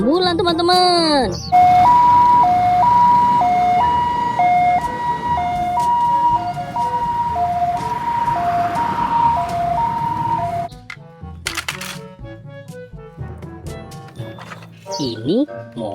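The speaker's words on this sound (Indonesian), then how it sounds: "Wow, ini ada mobil ambulan teman-teman." Ambulance siren on a toy or model ambulance, a steady two-tone wail alternating in a regular hi-lo pattern for about nine seconds at close range, then cutting out, with other toy noises and clatter around it.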